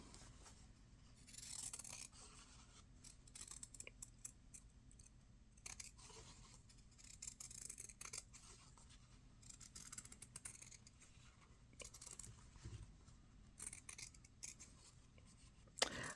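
Scissors cut out a fabric button patch for a slow-stitch pin brooch, making quiet, intermittent snips and rustles close by with no talking.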